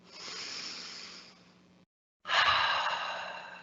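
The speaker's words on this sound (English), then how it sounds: "I take a deep breath" A deep breath drawn in audibly and let out, a long airy inhale, a brief pause, then a louder, fuller exhale sigh, close and unaccompanied.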